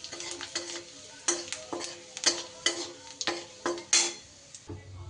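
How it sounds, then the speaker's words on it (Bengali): Bay leaf and cumin frying in hot oil for tempering, crackling and spattering in a pan with a string of sharp pops and utensil clinks over a low sizzle, close by. "এইবার আমি ওই তেলের মধ্যেই ফোড়নে দিয়ে দিচ্ছি একটা তেজপাতা, আর দিয়ে দিচ্ছি একটু জিরে"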